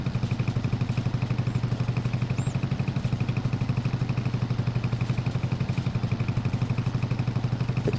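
Small tractor engine in Farming Simulator 22 idling and running steadily, a close, even putter with a regular rapid pulse throughout, no voices over it.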